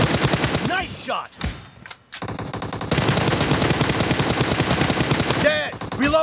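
Rapid automatic gunfire from the battle-royale video game PUBG in a team deathmatch, dense bursts crackling almost continuously with a brief lull, loud and close, mixed with game effects.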